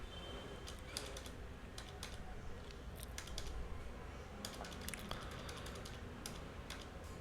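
Someone types a prompt on a computer keyboard, with quick irregular bursts of light key clicks close by over a faint steady background hum.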